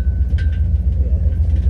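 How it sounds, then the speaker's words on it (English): An engine hoist loose in the back of a Chevy G20 van, clanking and rattling over a heavy low rumble of the moving van and its LS-swapped engine, close and loud. "that noise you hear is not the engine knocking. It's the engine hoist in the back."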